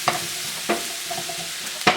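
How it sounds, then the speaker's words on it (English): Mushrooms and garlic sautéing in a pan for chicken Marsala, a soft steady sizzle punctuated by a few sharp scrapes of stirring, close and without talk. "and our mushrooms. I'm just going to cook these down"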